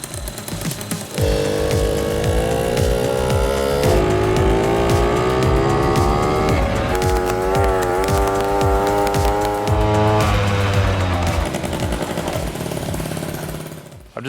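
Small Honda Motocompo folding scooter engine running loud and close, revving in rising and falling buzzy sweeps with a rapid ragged idle beat, sustained throughout with no talk.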